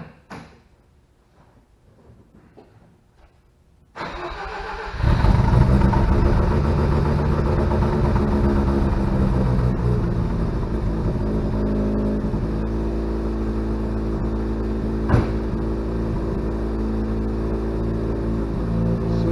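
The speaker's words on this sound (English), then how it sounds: "Cold start, mufflers are cold." A 1988 Mazda RX7 rotary engine starting cold with cold mufflers: a few seconds of near silence and faint clicks, then a cranking burst, and the engine catches into a loud, rough, steady idle that runs on with one sharp knock partway through.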